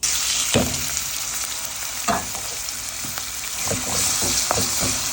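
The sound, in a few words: chopped onions frying with whole spices in a pan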